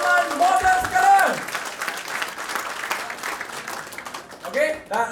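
An audience breaks into applause at a business talk on the internet era, with clapping swelling and fading under a speaking voice and ambient hall noise.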